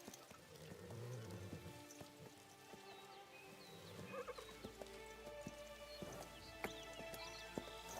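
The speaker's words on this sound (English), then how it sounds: "Clip clop." A horse walks in the video game ZZZ, its hooves making a steady, soft clip-clop over a patter of ambient rain-like sound.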